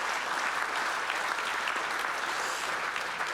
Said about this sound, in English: What about a round of applause for all 4 of our finalists?